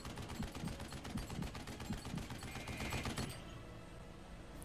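Rapid automatic gunfire from the video game Duke Nukem Forever rattles in a dense, continuous stream for about three seconds, then cuts off into quieter game ambience, with no talk.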